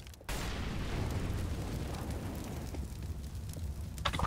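A fire grenade goes off in a video game: a sudden loud burst after a brief quiet, then a sustained roaring crackle of flames that fades slowly, with small pops near the end.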